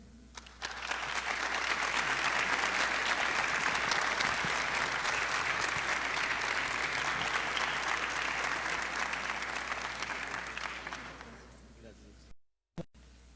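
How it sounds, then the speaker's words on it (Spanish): A lecture audience gives a strong ovation to the departing speaker, Dr. Jaime Alfonso Cúbides Cárdenas, with dense sustained clapping that swells quickly, holds for about ten seconds, then fades out. "Lo despedimos con esa fuerte ovación de todos nosotros"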